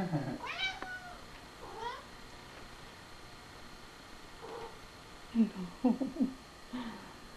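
A frightened cat meows several times, a couple of sharp cries early and then a cluster of strained yowls near the end, with quiet room noise between them.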